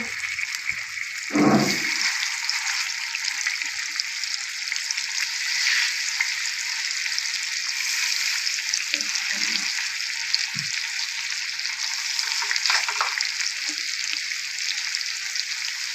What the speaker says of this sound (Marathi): आता आपण एक एक करून आपण फ्राय करून घेऊ